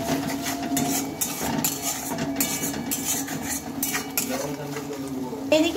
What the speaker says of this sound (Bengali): এখন আমি অল্প একটু জল দিয়ে নেব আর মশলাটা ভালোভাবে কষিয়ে নেব।